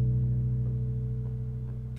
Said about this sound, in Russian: Третий аккорд. Си минор